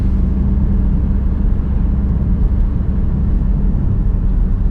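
Heard from inside a moving 2007 Vauxhall Astra 1.3 CDTi diesel, a steady low engine drone and road rumble hum continuously at a loud, even level.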